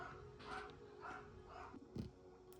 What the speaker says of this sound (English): I don't know what was making him bark like crazy